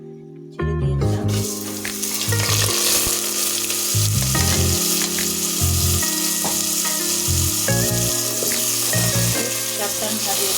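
Washed rice for white pulao hits hot oil in a pan with a sudden loud sizzle, then frying hisses steadily while the grains are stirred, with scraping and clinks over the constant crackle.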